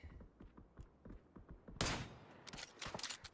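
A sudden loud gunshot lands in an online league shooter match amid scattered softer thumps and footsteps, with more shots following.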